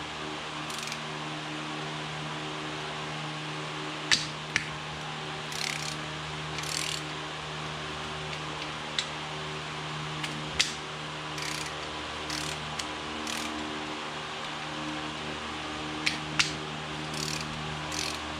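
Faint, sparse ratchet clicks come in short scattered bursts while loosening oil pan bolts on an Onan engine from a John Deere 318, set against a steady low mechanical hum.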